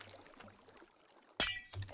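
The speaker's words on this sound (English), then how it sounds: "you just pop the glass at the bottom" A glass block breaks in Minecraft, one sharp shattering clink after a quiet stretch, followed by a faint short tinkle.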